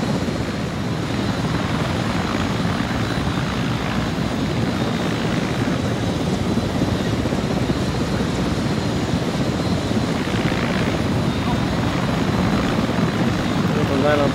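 Russian gunship helicopter flying in ARMA 3, a steady loud rotor and engine drone filling the whole stretch, with voices talking over it.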